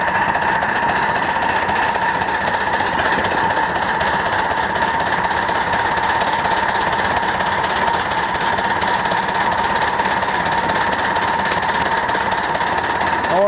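A model train running on stainless steel rail, with a loud continuous mechanical rumble and dense rapid clatter of wheels over track. A steady droning hum sits under it throughout.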